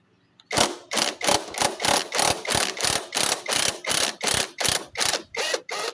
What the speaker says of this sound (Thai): เราจะยิงออกนะครับ เราจะใช้บล็อกยิงออก